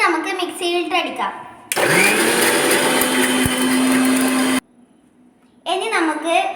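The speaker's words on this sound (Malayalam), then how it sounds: "ഇനി നമുക്ക് മിക്സിയിലിട്ട് അടിക്കാം." A mixer grinder blends mayonnaise ingredients in a loud, steady whirring burst lasting a few seconds, then cuts off abruptly, with a person talking before and after.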